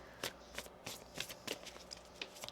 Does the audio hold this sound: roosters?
no